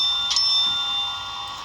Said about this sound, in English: We're going to ring our bell,